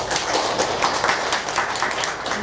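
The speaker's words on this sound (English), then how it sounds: "a round of applause for them" A conference audience gives a short round of applause, dense clapping at moderate loudness throughout, with no voices standing out.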